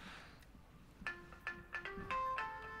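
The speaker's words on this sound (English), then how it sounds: "I just ignored your phone call." A phone's incoming-call ringtone plays a short melodic series of electronic tones, fairly close and clear against a quiet room.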